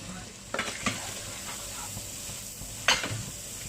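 Chopped onions fry in a hot pan for a moong dal tadka, with a gentle sizzle broken by a few quick stirring scrapes and a clack of the spoon, close up and with no speech.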